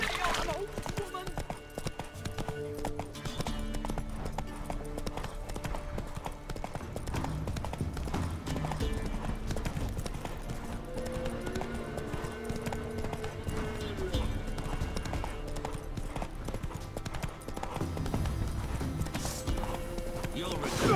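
A horse gallops in The Witcher 3 with steady, rhythmic clip-clop hoofbeats throughout, joined by an occasional whinny, while voices talk over them.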